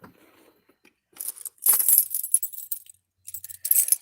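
A set of car keys jangles beside a steering wheel inside a vehicle: a faint rustle at first, then a bright metallic clinking burst that fades away, followed by a second short shake, with no talking.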